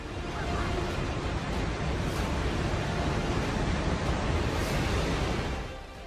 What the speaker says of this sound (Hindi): पानी की लहरें बड़ी बड़ी इमारतों से भी बहुत ऊंची उठ रही हैं।